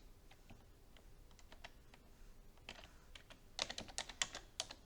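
Quiet, irregular keystrokes come from typing on a computer keyboard in Word. Soft clicks start sparse, then grow louder and quicker in short bursts near the end.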